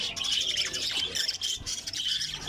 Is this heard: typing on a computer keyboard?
no